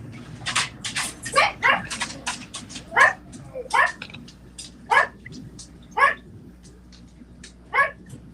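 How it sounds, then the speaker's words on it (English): Several dogs bark in short, spaced yelps with a few whiny whimpers between, fairly close, over a low steady background hum. "y'all can just hear dogs for a minute"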